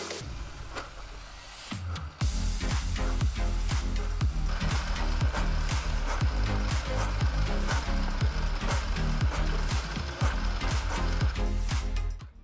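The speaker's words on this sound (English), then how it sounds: "Now we just add a screw into each one of those." Screws driven into glued wood on a large router sled jig, a soft lead-in followed by a steady run of rapid rhythmic clicking from the driver, close and continuous for about ten seconds before it stops.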